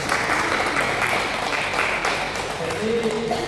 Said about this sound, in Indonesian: Ya, tepuk tangan terlebih dahulu.